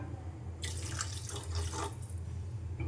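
Water pours into a cooking pot for making upma, a short, quiet splashing stream that starts after a brief pause and runs for about two seconds with no talking.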